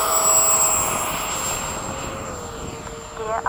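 An FMS 80mm Hawk RC jet flies past with a steady, loud electric ducted-fan whine whose pitch slowly falls as it moves away, fading slightly toward the end.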